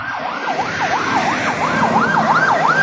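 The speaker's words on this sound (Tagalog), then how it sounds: "may wangwang" An emergency vehicle siren wails loudly and close by, with a steady up-and-down sweeping tone repeating about every third of a second over faint road traffic.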